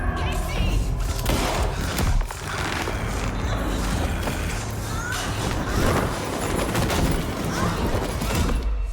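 Gunfire in the video game Alan Wake 2, dense repeated shots and thuds over a steady loud game soundscape, with someone talking through parts of it.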